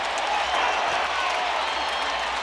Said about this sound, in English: you hear the crowd reacting